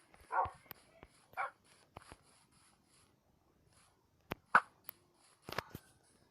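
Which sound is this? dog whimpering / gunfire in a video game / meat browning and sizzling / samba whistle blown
dog whimpering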